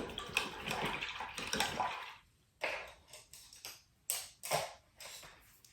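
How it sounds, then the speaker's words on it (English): An acrylic paintbrush is swished and rinsed in water, making faint, intermittent splashing bursts in an otherwise quiet room. "I'm going to wash this brush out."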